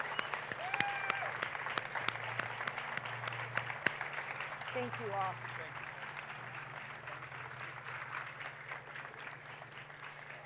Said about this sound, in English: So let's take a moment and please give these people a round of applause.